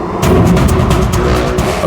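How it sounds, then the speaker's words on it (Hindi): A car engine runs loud and close with a steady, rough drone, as the vehicle drives through a forest in a crime drama scene. "अभिजीत सर की गाड़ी।"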